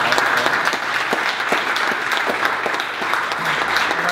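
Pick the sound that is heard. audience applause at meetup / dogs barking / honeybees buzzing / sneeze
audience applause at meetup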